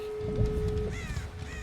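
A crow caws from the game Dead by Daylight, a few harsh descending calls standing out over a low rumbling game ambience and a steady tone.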